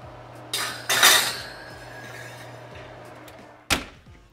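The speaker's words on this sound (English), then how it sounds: "Put your pan in the oven and let your pan preheat while" A metal baking pan slides into an oven to preheat for popovers, with a clanking scrape of metal on the rack followed a few seconds later by a sharp knock, close and alone.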